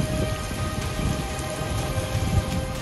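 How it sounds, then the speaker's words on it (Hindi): Heavy monsoon rain pours steadily and densely in Sindh, Pakistan, a loud unbroken wash of drops hitting surfaces, with no voices. "मीरपुर खास, सक्खर और ठट्टा पर बादल जमकर बरसे"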